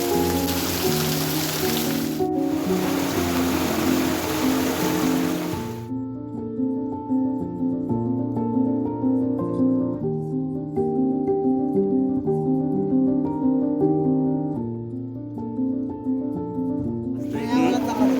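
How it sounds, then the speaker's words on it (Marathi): Heavy monsoon rain in the Konkan during rice planting season makes a loud, broad hiss for the first few seconds, then gives way to sustained tonal music, with a brief return of the rain at the end. "आणि पाऊस बघा एकदम जोरदार चालू आहे."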